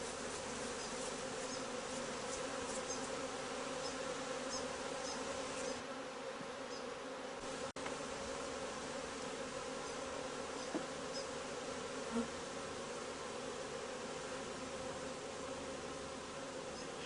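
Honey bees hum steadily in a hive being fitted with a frame of lay cages and fed sugar syrup, a dense, continuous buzz at a constant level throughout, with one brief faint knock partway through.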